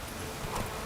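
Hoofbeats of the horse Roach in The Witcher 3 video game, a brief patter of close clip-clop steps over a dense game soundscape.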